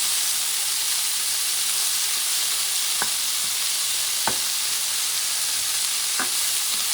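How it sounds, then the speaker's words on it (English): Lima beans and green beans sauté in a pan for Paella Alicantina, a loud, steady hiss of frying with three brief sharp clicks of a utensil spaced a second or two apart. "I'm going to add lima beans, green beans, and I'm going to saute this baby."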